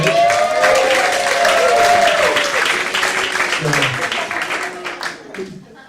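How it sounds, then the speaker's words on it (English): A stand-up comedy audience applauds loudly, the clapping gradually fading toward the end while a voice briefly speaks over it. "Round of applause for Mitch."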